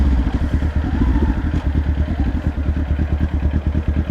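A Kawasaki Ninja 400 motorcycle rides at night, its small engine holding a steady, throbbing drone with a rapid pulsing beat, loud and close throughout with slight rises in revs.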